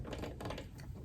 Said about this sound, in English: this is the needle threader. You pull this lever down